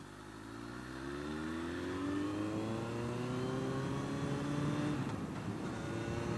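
A Suzuki Bandit 1200 Mk1 motorcycle engine revs steadily upward in pitch for several seconds, loud and sustained, then drops off near the end.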